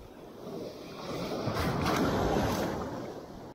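Sea waves at Ashkelon, one wash of surf swelling and breaking close by, rising to a broad hiss and then fading, with light wind on the microphone.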